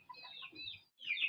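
Free-range village chickens cluck while being fed, a few short, close squawks and clucks separated by a brief pause.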